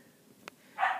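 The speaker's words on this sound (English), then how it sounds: "sorry about my dog barking anyways" A dog barks once, a short, fairly loud burst at the end, set in a quiet room during a talk about saltwater fishing tackle.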